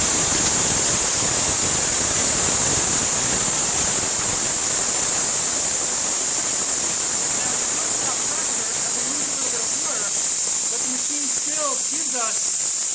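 Steady loud hiss of a 110V 3kW mini steam car wash machine's jet spraying continuously, with faint chirps near the end.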